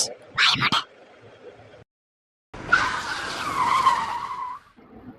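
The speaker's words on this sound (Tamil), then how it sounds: "இப்படிதான் சடன் பிரேக் போடுவீங்களா?" A tour vehicle carrying passengers brakes suddenly, its tires letting out a loud, sustained skidding squeal that lasts about two seconds, preceded by a short burst of voice and then a moment of silence.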